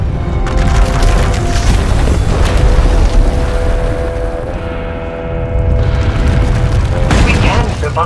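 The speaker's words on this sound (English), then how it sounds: "Her power is raging out of control. When it erupts, the entire asylum will be destroyed." Raging Force power erupts in the Star Wars: The Old Republic video game, a loud sustained rumbling boom with heavy low-end roar and mechanical debris sounds, briefly dipping before surging again, with voices speaking over it.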